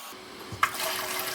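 Water gushes from a kitchen faucet with its head removed, starting with a short click and then turning into a steady, hissing rush of flowing water that continues to the end.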